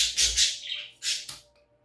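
Birds give a few short squawking calls in two quick groups, bright and fairly close, with no other sound around them.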